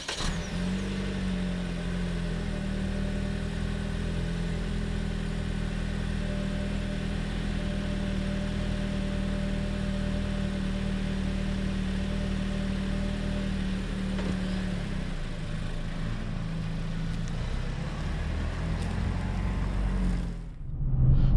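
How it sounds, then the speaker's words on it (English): A 2021 Lexus ES250 AWD F-Sport with its four-cylinder engine runs steadily as it drives, a continuous mid-pitched engine hum and road drone that holds evenly throughout before dropping away abruptly near the end. "Let's hit the start button and let's get this baby on the road."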